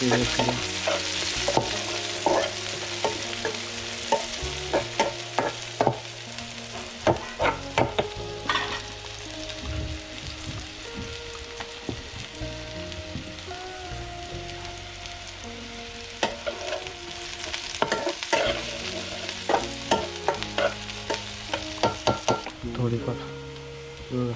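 Chopped onion fries in hot oil for a drumstick vegetable dish, a continuous sizzle punctuated by repeated clattering stirs and scrapes of a spatula in the pan.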